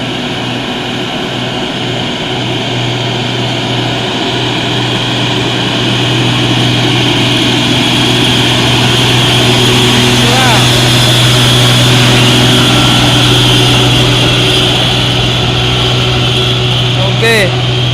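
A Fuso tanker truck hauling CPO labors up the steep Raniate climb, its diesel engine droning loud and steady with a deep sustained hum, heard close throughout without break.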